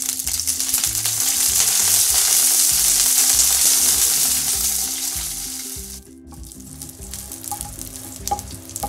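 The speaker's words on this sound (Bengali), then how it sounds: "মরিচ একটু ভালো করে ভেজে নিব" Dried red chillies fry in a little oil in a frying pan for a Bengali chepa shutki pickle, giving a steady, loud, close sizzle that eases off after a brief gap near the end, with occasional scrapes of stirring.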